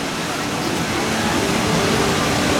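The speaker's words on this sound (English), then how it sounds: "That cool waterfall over there." Steady, broadband rushing of falling water from a waterfall by a river rapids ride at the Toverland theme park, constant and fairly loud with no breaks, heard from nearby.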